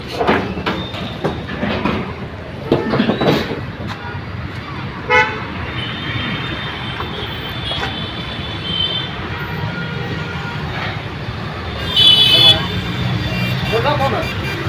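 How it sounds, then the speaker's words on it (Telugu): Road traffic runs close by with a constant rumble of engines and a few short horn toots, the loudest near the end. People talk over the noise. "ట్రాఫిక్ పక్కనే ఉంది."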